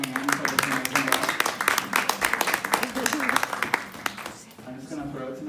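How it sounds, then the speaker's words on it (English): Audience applause for an author and illustrator at a book launch event in a bookstore, dense clapping from a room of people that thins out near the end, with voices murmuring underneath. "Can we give a round of applause for our author and illustrator for coming in for this amazing book?"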